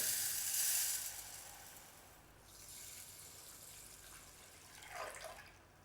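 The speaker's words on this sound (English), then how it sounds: "Place the rice into a suitable pot and pour in enough water to cover." Water runs and splashes into a pot of rice for about a second, then a softer trickle follows with a brief gush near the end, no voices.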